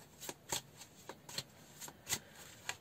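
Tarot cards being shuffled by hand, a series of soft, crisp riffling bursts at an irregular rhythm, close and fairly quiet, with no talking.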